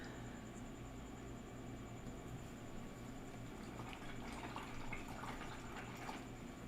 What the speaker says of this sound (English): Give that a rinse and a wipe off on the towel here.